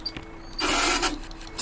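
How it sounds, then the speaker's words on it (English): A bus ticket machine in the OMSI 2 bus simulator issues a ticket with a close mechanical whir and rattle lasting about half a second, followed by faint clicks and a short final clack. "I think the uh, the sound could be ever so slightly quieter the, uh, when the ticket launches itself out"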